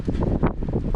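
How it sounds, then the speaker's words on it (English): Strong wind buffets the microphone in a steady low roar with gusty surges, loud and close throughout the second. "Sorry about the wind. It's really windy here,"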